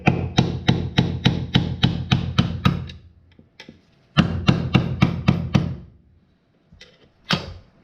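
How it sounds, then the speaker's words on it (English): Sharp metallic hammer-like blows knock a transfer case seal out of a 2001 Chevy Silverado 2500 using screwdrivers: two rapid bursts of about eight evenly spaced, loud, close strikes, then a few scattered single taps. "I'm gonna try to smack that seal out."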